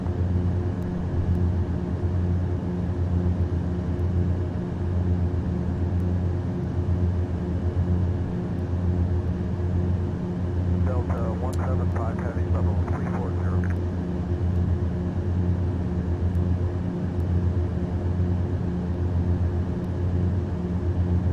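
A Gulfstream business jet's cabin in level cruise at flight level 400: a steady, even engine and airflow drone holds throughout, with a brief voice breaking in partway through.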